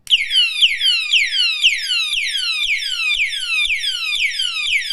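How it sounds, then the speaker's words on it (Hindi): An anti-theft padlock's siren alarm shrieks loudly alone, repeating fast descending electronic sweeps in a steady rhythm without pause. "इसमें से बहुत तेज आवाज आने लगती है बीप बीप की"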